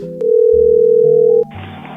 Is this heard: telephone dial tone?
yes